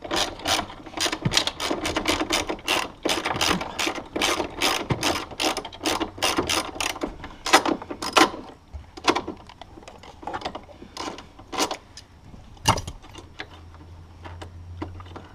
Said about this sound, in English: That's what your 13mm is for.